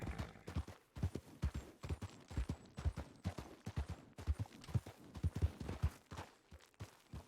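A horse's hooves clip-clop in a video game set in grizzly-bear wilderness, a rapid, uneven run of close, sharp thuds that continues with only brief pauses.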